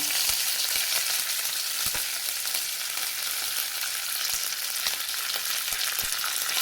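Mustard seeds and fenugreek fry in hot oil for a fish curry, giving a continuous bright sizzle dotted with sharp seed pops and crackles. The sound is close and steady, with no voices.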